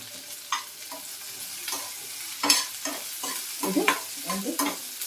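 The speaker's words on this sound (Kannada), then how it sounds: "ಹಾಗಾಗಿ ಇದನ್ನು ಫ್ರೈ ಮಾಡೋಣ" Onion frying in a pan with a pinch of salt, giving a steady low sizzle broken by repeated stirring scrapes and clatters, close up and alone.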